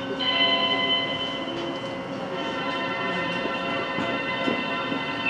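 Steady rumble of an Eizan Railway 800 series train at rest at Kurama with faint chime-like tones and mechanical clunks, no voices, a door-closing warning ambience before pulling out.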